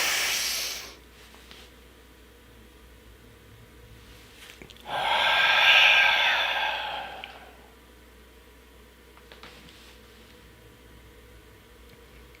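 Slow, deep breathing during a guided meditation, heard up close: a sharp exhale at the start, then a long, loud, airy inhale or exhale lasting a few seconds in the middle, with quiet pauses between and no talk.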